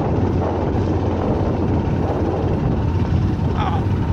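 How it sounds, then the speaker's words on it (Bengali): Motorcycle ride along a red dirt road through forest, a steady close roar of engine and wind that drones without a break. "আমরা বাইক নিয়ে যাচ্ছি, জানি না কোথায় যাচ্ছি"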